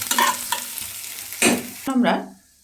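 Vegetables for fried rice stirred and lightly fried in a pan, brief sizzle with scraping stirring strokes and spatula knocks, fading near the end.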